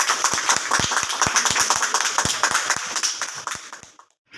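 A church congregation in Jamilabad, Multan claps for an anniversary award. Brisk, fairly close clapping from a modest group lasts about four seconds and then stops abruptly.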